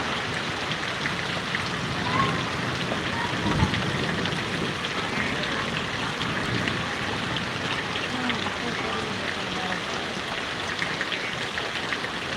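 Heavy rain pours down on Vadgam village in Patdi taluka, a dense, steady hiss of falling water that stays even and fairly close throughout.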